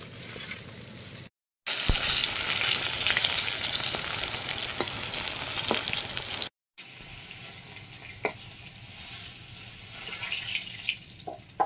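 Pointed gourd fries in oil with a dense, crackling sizzle. Two short silent gaps cut into it, and a few utensil taps follow.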